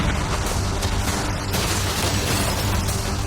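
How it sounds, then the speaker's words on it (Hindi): Heavy cannon fire aimed at a yacht, a dense continuous roar of booms and bursts with no clear gaps, loud and close, filling the whole stretch with no talk. "कैनन्स को तैयार करो।"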